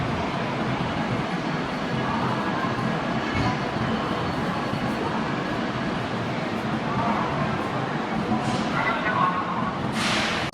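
A CR400AFA Fuxing high-speed train, the G830 to Xi'an North, pulls out of Shenzhen North station, giving a steady, loud rolling rumble throughout with brief higher hiss bursts near the end; faint voices are mixed in.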